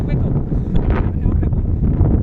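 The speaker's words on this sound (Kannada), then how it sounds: "ಏನು ಗಾಳಿ ಗುರು" Strong wind buffets the microphone on top of Mandaragiri hill, a steady loud roar with gusty swells throughout, and a voice speaks over it.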